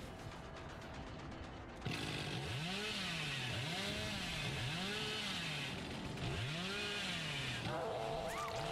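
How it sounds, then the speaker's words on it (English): Video game chainsaws rev in cycles, their whining engine pitch swooping up and down repeatedly over a steady mechanical drone. "Two chainsaws."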